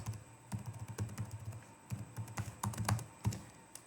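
Steady, fairly quiet typing on a computer keyboard as keywords and login credentials are entered, with irregular clusters of key clicks and a few sharper taps, no talking.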